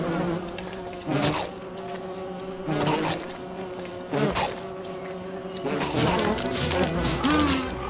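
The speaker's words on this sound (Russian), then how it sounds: "Тупые пчёлы." Bees buzz in the video game Don't Starve, a steady droning hum with louder swells roughly every one and a half seconds as they circle close. No one speaks.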